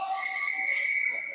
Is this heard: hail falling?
no